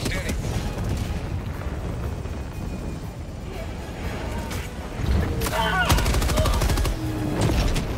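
Gunfire in the co-op shooter game Helldivers 2, a continuous rumble of automatic weapons and explosions that grows louder toward the end, with voices talking over it.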